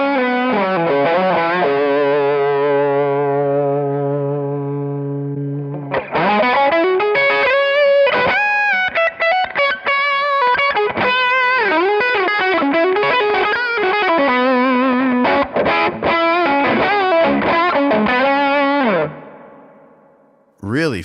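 Distorted electric guitar played through a Two Notes Torpedo C.A.B M+ with an EL84-style power amp simulation: a loud sustained chord rings out first, then a long run of quick, busy riffs and single notes that cuts off near the end.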